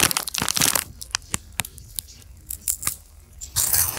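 Crunchy bites into Chester's spicy fries snack, close to the mic in ASMR style, with a burst of crackly chewing at the start, scattered sharp crunches through the middle, and a dense crunching flurry at the end.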